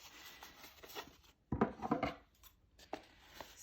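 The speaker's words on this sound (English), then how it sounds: "So I'm taking my scissors" Scissors cut through a handmade paper greeting card, trimming it straight. Faint snips and paper rustle come up close and quiet, with a louder burst of several cuts in the middle and a few softer snips after.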